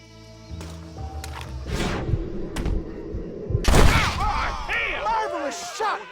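Gunfire in Red Dead Redemption, sharp gunshot cracks over a game soundscape with music, hoofbeats and shouting voices around them.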